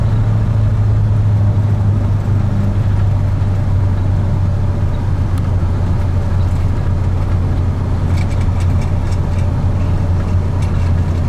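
A junkyard truck engine drones steadily while driving, heard loud and close from inside the cab with a constant low hum. No clear gear change stands out, and no one speaks.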